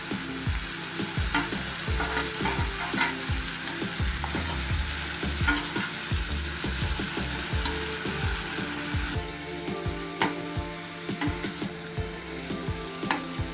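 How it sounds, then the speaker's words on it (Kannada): Greens and gram being stirred into a hot tempering in a pan in a Mandya-style soppu upsaaru, with a steady sizzle and repeated scraping strokes of the spoon, close and clear, with no talking. "ಸೊಪ್ಪು ಮತ್ತು ಕಾಳನ್ನು ನಾನು ಒಗ್ಗರಣೆ ಜೊತೆ ಮಿಕ್ಸ್ ಮಾಡ್ತಾ ಇದ್ದೀನಿ"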